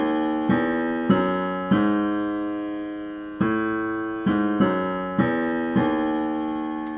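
Piano passage from the song, played as a steady line of separate notes struck one after another with sustained decays, close and clear with no voices.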